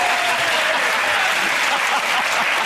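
A studio audience at a panel comedy show keeps up dense, full applause at a steady loudness, with no break in the clapping.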